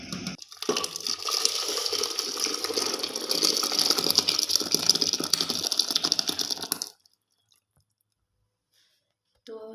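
Hot and sour Chinese soup is poured out of the cooking pot into a serving dish, giving a steady liquid splash and trickle for about seven seconds. The sound then stops abruptly into near silence.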